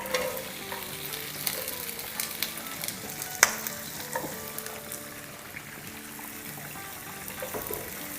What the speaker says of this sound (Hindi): इसको बस 30 सेकंड सॉटे करेंगे।